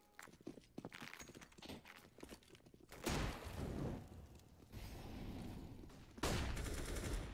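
Desert Eagle pistol fire in a tactical shooter video game, a scatter of sharp shots and footsteps followed by loud bursts of gunfire around three, five and six seconds, close and fairly dense.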